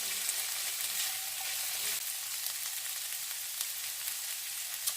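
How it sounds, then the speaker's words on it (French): Chicken for a peanut-sauce mafé sautéing in a pan over high heat with ginger, a loud steady sizzle and crackle throughout, with a brief stir or toss partway through and no talking. "Toujours à feu vif. Hop. Et on refait sauter tout ça."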